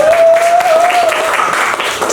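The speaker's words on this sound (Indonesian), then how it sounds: "Tepuk tangan dulu dong" A short burst of applause in a classroom, loud and close, with a teacher's voice over the top of it.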